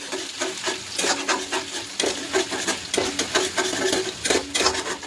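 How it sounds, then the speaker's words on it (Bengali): Onion frying in a little oil in a wok, a constant close sizzle under repeated rhythmic scraping and clinking of a spatula against the metal. "আর আমি অল্প করে পেঁয়াজটা ভেজে দেবো।"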